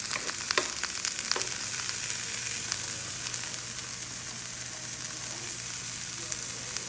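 Salted vegetables for a stir fry hiss and sizzle in a hot pan, with a dense crackle of small pops that is busier at first and settles into a steady, fairly quiet fizz.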